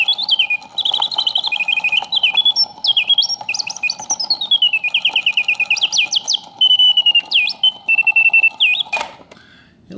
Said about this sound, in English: how this vintage circa 1950s Karl Griesbaum singing bird box plays